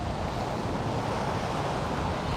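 Steady, loud wind buffeting a microphone on a beachside walk by the sea in Palma de Mallorca, a continuous broadband roar filling the whole clip with no speech.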